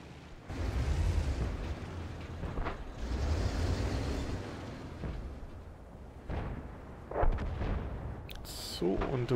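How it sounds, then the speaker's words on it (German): Jagdpanther tank destroyer gun firing in World of Tanks, a few deep booming reports in the distance amid rumbling battle noise. "der Jagdpanther schießt da hinten auch mal wieder fröhlich mit."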